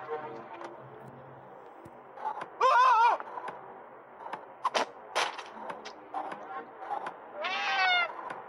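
Two cats meow in the video game Friday the 13th Killer Puzzle, with a few short, distinct cries rising and falling over a quiet game background and some sharp clicks in between.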